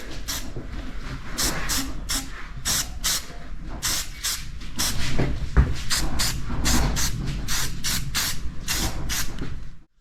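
Rapid hissing bursts of spray paint on a 1983 Yamaha IT 175 motorcycle frame being coated black, short repeated blasts in quick succession over a steady background, close and fairly loud.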